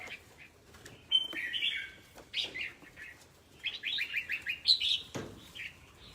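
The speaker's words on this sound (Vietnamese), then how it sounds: "Chim này to cho bà." A bird chirps in bright, rapid bursts and trills, with brief sharp flutters that may be wing flaps, alternating with short pauses at close range.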